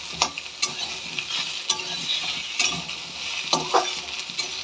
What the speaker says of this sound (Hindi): ये सब आलू इसमें डाल दूँगी, सो दैट कि आलू भी साथ में थोड़ा फ्राई हो जाए।